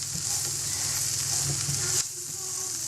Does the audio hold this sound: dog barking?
no